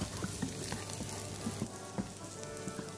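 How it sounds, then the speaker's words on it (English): Garlic fries in a pan in a steady, busy sizzle with soft crackling pops, close up and fairly quiet, with no voices. "now we put in garlic"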